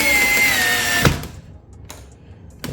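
A power drill whines steadily while driving a long screw into a Genesis G70 rear bumper, then cuts off abruptly with a thump, followed by a couple of faint clicks.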